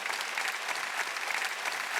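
A church congregation claps during a worship service, a steady, full round of applause from many hands, close and even, with no voices above it.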